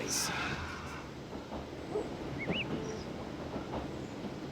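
Train sound effect for landing on a railroad space in Monopoly on the Switch: a rumbling clatter of rail cars with a short whistle-like toot, mixed with game music and soft background chatter.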